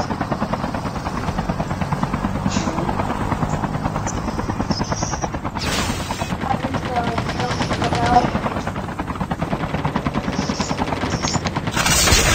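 Helicopter in a battle royale video game, a steady loud rotor chop running throughout alongside bursts of gunfire, with players talking over it.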